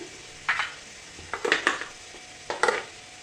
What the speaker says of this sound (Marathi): लसूणच्या पाकळ्या थोड्याशा हलक्याशा तेलामध्ये भाजून घेऊया